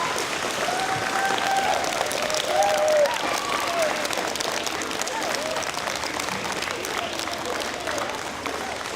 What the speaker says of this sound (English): So let's give him a very big round of applause.